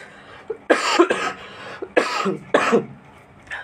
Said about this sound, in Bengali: সরি, বারবার সরি বলতে হচ্ছে কাশির জন্য